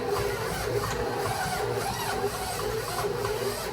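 A stand mixer labors kneading pizza dough, with a dense, strained grinding hum and faint rhythmic surges, running alone without speech.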